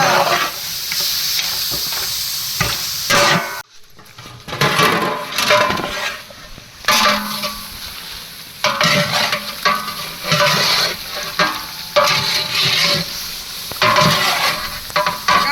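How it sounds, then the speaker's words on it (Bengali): Chicken being stirred and fried in a pan for a spicy chicken jhal fry, a continuous loud sizzle with repeated scraping stirs, briefly dropping out for a moment before resuming. "মাংসটা লাইরে দেন বালা কইরা, নাইলে লাইগা যাবে বাবা।"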